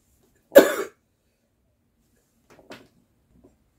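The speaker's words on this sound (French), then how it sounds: "je tousse comme c'est pas permis." A single harsh cough up close, followed after a pause by a faint short throat sound.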